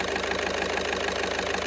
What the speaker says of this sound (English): I have the engine running